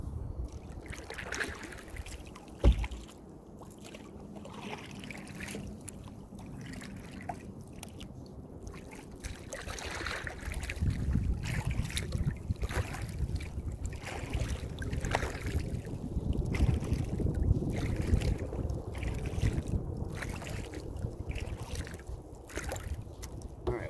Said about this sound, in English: The wind is coming up again.